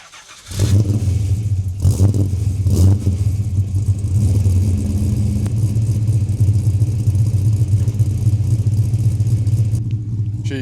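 A cammed LS V8 in a VS Statesman SS starts and settles into a deep, lumpy idle, loud and close, with a steady low rumble and a couple of blips early on.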